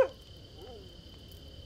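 A dog in the fantasy game The Vale lets out a short bark at the start, followed by a faint, brief whine over quiet background ambience.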